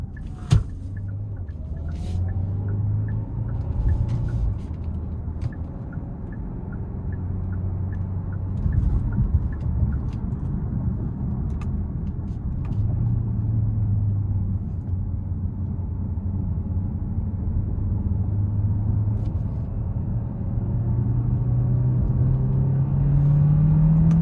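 A 2026 Hyundai Santa Fe Hybrid AWD Calligraphy accelerating in sport mode, heard from inside the cabin: a steady engine drone rises and falls in pitch through the gears, with road rumble underneath and no talking.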